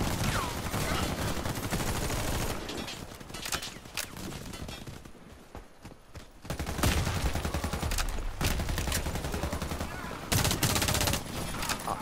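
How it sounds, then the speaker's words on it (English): Sustained gunfire in the shooter video game Warface during a team deathmatch: dense automatic bursts, loud and close, with a brief quieter lull in the middle before heavy firing resumes. "I'll try this gun out just a couple times."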